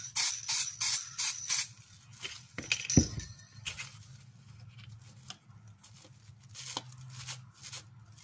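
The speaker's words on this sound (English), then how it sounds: "And what I'm going to do is I'm going to spray this" Bursts of spray paint hiss from an aerosol can onto a clear RC car body for a candy apple green camouflage finish, several short rhythmic dabs up close, then quieter scattered sprays and light clinks.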